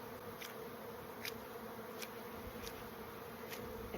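Honeybees at an open hive during an inspection give a dense, steady buzzing hum close by, with faint brief clicks or taps breaking through every so often and no voices.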